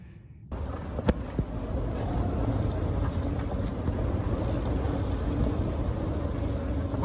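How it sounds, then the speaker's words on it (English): Steady strong wind of about 20-25 mph roars around a boat held on two anchors at sea, with a few knocks and rattles early on and a constant broad rushing noise throughout. "Winds are about 20-25 mile an hour right now"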